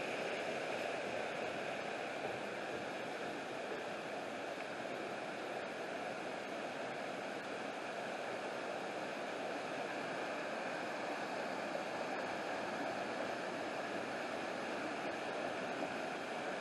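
Rushing mountain stream below Anna Ruby Falls near Helen, Georgia, a steady, dense broadband roar of fast-moving water, close and continuous with no voices.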